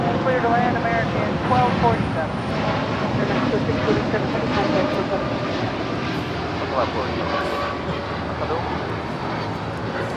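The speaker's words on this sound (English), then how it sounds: "Alaska Airlines 1220 coming in from Seattle in the Star Wars livery" An Alaska Airlines jet inbound from Seattle in Star Wars livery lands at Los Angeles International Airport, its engine roar steady and broad throughout, with voices talking over it.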